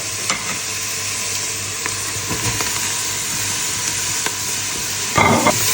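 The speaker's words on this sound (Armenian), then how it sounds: "հիմա սոխը լցնում եմ արդեն յուղի մեջ, պատրաստում եմ սոխարած" Chopped onion poured into hot oil in a home kitchen, cooking for a chicken soup, gives a steady close sizzle with occasional stirring scrapes and a louder burst of crackle near the end.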